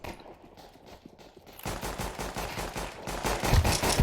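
Bursts of rapid gunfire from the video game Counter-Strike 2, starting faint and sparse then turning into a loud, dense barrage of repeated shots that builds in intensity, with no talking.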